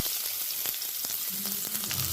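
Chopped onion frying in sunflower oil in a pan, a steady soft sizzle with a few light crackles, close and fairly quiet, with no one talking.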